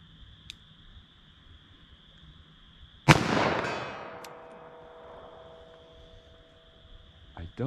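A single loud gunshot from a DoubleTap Equalizer handgun loaded with 9mm +P or .357 Magnum, fired outdoors into a ballistic gel target, cracking sharply and echoing away over a few seconds, with faint background noise before and after.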